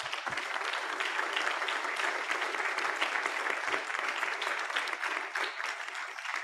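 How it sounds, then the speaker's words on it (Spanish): An audience at a sports-and-development congress claps in a sustained, dense round of applause that stays even and fairly loud from start to finish, with no voices over it. "hay que darnos un aplauso a ustedes mismos y de nosotros a ustedes"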